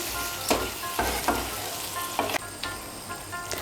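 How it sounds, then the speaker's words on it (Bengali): Water poured into a hot pan of vegetables for Bengali sukto gives a steady close sizzle, broken by several sharp bursts of hissing and stirring scrapes. "আমি 2 বাটি আর হাফ বাটি জল দিচ্ছি।"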